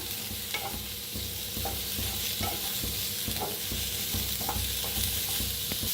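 Onion frying in mustard oil in a pan, a steady broadband sizzle with intermittent clicks and scrapes from stirring, close and continuous with no talk.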